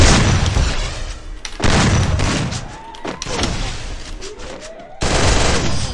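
Loud bursts of gunfire crack out in several rapid volleys, with booming reports and echoing tails between them, no voices over the shots.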